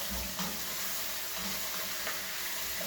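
Root vegetables frying in a hot pan for braised lamb shank, a steady soft sizzle with occasional stirring clatter, close and alone.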